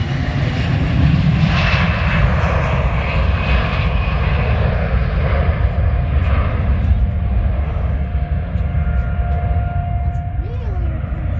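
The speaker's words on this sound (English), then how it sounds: "I'm going to go over here and see a jet taking off right now." A jet takes off on runway 17 at an airfield beside an air museum, giving a loud, steady roar of engine noise that fills the whole stretch without letting up, while a faint tone rises near the end.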